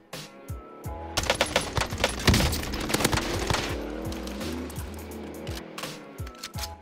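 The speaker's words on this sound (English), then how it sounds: "I don't even know where I'm getting shot from" Rapid bursts of automatic gunfire in Warzone crack over a vehicle's engine rumble, dense volleys building then tapering into scattered distant shots.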